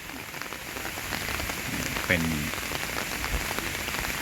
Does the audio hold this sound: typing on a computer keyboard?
no